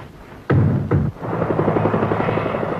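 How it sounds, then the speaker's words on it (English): A helicopter flies over Buckingham Palace on a summer morning in 1969. A couple of heavy thumps come first, then a steady, loud rotor chop keeps pulsing. "A helicopter over Buckingham Palace on a summer morning."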